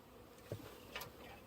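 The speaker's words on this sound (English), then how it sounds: "I'm going to shake the bee swarm, that whole big ball of bees, into this box" A honeybee swarm being shaken into a box gives off faint, brief buzzing, with a couple of short louder swells over a quiet background.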